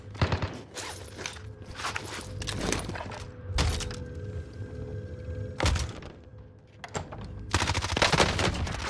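Submachine gun hip-fire in Call of Duty Cold War Warzone, coming as several short, sharp bursts spread across the moment, with quieter game movement and footstep noise between them.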